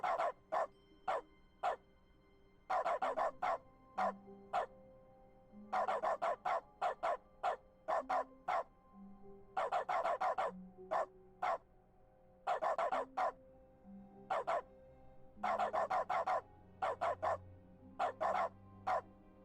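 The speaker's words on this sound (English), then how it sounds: "I couldn't do it super well because the barking's weird." A dog in The Stanley Parable: Ultra Deluxe barks in rhythmic clusters of sharp, loud barks, as though tapping out a tune, with short pauses between groups and a faint background tone underneath.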